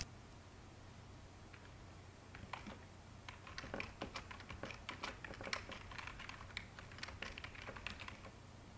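Typing on a computer keyboard while entering a payment amount, a quiet run of quick, irregular key clicks that starts after a couple of seconds and continues steadily over a faint background hum; no talking.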